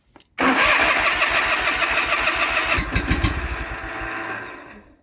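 A Craftsman lawn mower engine suddenly catches and starts, roaring loud and close, then settles into an uneven running idle that fades slightly toward the end.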